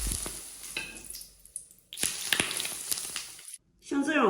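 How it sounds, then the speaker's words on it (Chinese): Hot cooking oil poured over blanched spinach topped with garlic sizzles in sharp bursts, with a loud crackling surge near the end after a brief pause. "油烧热以后，均匀的给它淋在上面"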